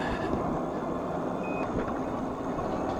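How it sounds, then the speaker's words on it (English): A single short electronic beep from an electric bike's cruise control sounds once over a steady background hum of motion and wind. "That little beep means your cruise control is on."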